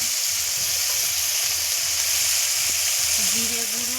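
Ground spices fry in hot oil for a fish curry, giving a steady, dense sizzle and hiss that runs without a break, with faint stirring sounds.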